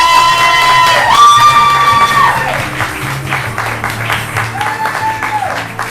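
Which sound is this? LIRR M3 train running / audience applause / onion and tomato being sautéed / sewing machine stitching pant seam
audience applause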